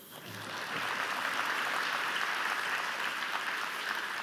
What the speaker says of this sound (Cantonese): 唔該，掌聲啊！